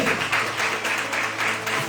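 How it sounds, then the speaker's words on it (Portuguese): A church congregation at a worship service clapping together, a dense continuous wash of applause with a faintly pulsing rhythm, fairly loud and filling the room. "Aplauda ao Senhor."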